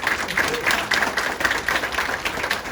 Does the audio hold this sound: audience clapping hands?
yes